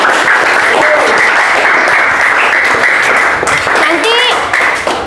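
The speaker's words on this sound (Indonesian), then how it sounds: "Kasih tepuk tangan sama Elo." Classmates applaud a student named Elo during an Indonesian science lesson on Coulomb's force; a roomful of hands claps loudly and evenly for several seconds, with faint voices and a brief squeak near the end.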